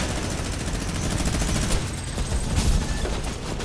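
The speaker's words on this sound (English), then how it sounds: "Dude, that minigun." A minigun rattles in Fortnite during an aerial battle royale, delivering a continuous rapid stream of loud shots over the whole span with no break.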